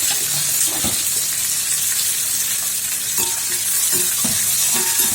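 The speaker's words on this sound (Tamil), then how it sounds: "கொஞ்சம் வெங்காயத்தை போட்டுக்கலாம், கூடவே ஒரு பச்சை மிளகாய்." Sliced onion and a green chilli fry in a hot kadai, a loud continuous sizzle broken by several distinct scraping strokes of a spoon stirring the pan, with no voices.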